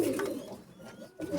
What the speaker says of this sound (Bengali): ডাইরেক্ট ইম্পোর্ট করা কবুতর।